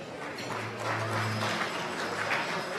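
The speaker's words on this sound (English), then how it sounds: "clap your hands" An audience at a water science and policy summit claps together, a broad patter of many hands building and holding for a few seconds in a large room.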